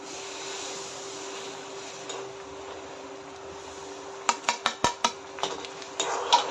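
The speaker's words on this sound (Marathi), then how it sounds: "आता हे सर्व व्यवस्थित मिक्स करून घ्यायचे आहे आणि कंटिन्यू हलवत राहायचं आहे" Semolina is stirred into boiling water in a pot for Maharashtrian upma: a quiet simmering hiss, then a run of sharp spoon-on-metal clinks and scrapes in quick succession.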